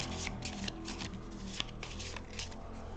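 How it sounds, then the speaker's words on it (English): Cards from the play board being shuffled by hand during a game of Lost Ruins of Arnak, a soft continuous riffling and rubbing of card stock close by with occasional light taps. "They shuffle the cards that were on the play board"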